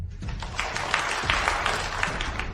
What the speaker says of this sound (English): let's give a warm round of applause for the board directors